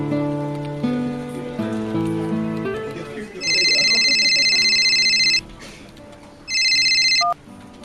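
A telephone ringtone sounds for an incoming call in two loud electronic bursts, the first about two seconds long and the second shorter, after a stretch of background music.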